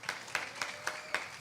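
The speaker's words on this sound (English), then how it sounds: "Round of applause for Max and Stacy," Audience applause at a live tournament broadcast from El Salvador: a few slow, evenly spaced claps ring out at a steady beat, quiet and somewhat distant, with no voices.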